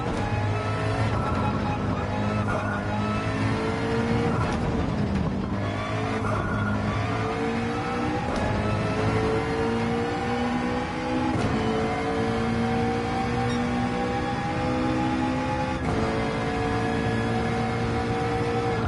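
A Ferrari 458 race car engine in Gran Turismo 7 on track, loud and continuous, revving up and down through gear changes with occasional shifts in pitch.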